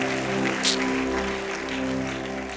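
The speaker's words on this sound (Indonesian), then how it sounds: "Kita beri tepuk tangan, saudara." A church congregation at an evangelistic service claps together in one brief, steady burst of applause that lasts a couple of seconds.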